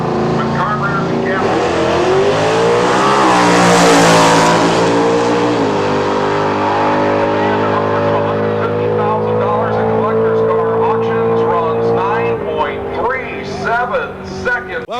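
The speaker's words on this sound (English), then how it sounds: "you're looking at a 1968 Hemi Dart, one of the terrors of the drag strip" A 1968 Hemi-powered Dodge Dart drag car, carbureted and over 700 horsepower, roars at a drag strip in Norwalk, Ohio, its loud engine drone rising and falling for several seconds with speech faintly underneath.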